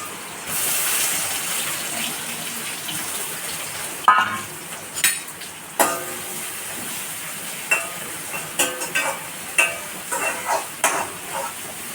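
Onions frying and browning in a pan with two chillies, a steady sizzle under sharp, repeated scrapes and clinks of a stirring spoon against the pan.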